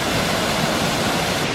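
A waterfall in the Southern Black Forest pours in a dense, unbroken roar, loud and near, with no voices over it.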